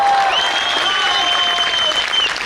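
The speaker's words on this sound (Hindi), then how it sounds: "इस बात पर एक बार जोरदार तालियां बजनी चाहिए" Loud, steady applause from an audience at a Hindi poetry recital, sustained throughout with a faint tonal hum running underneath.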